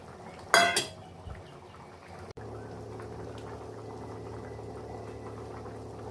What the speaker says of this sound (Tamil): குழம்பு கொதிச்சிட்ருக்கு.